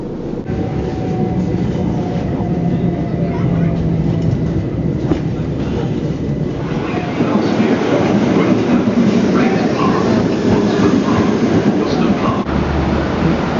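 Steady loud rumble and rattle of a passenger train running on rails, heard from inside a nearly empty carriage, continuous throughout with a brief change in tone partway.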